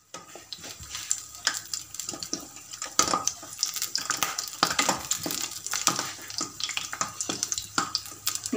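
Anarsa batter sizzles in oil on medium-low heat, a steady crackling with bursts of sharper pops and some clinks and scrapes nearby, moderately quiet with no talking.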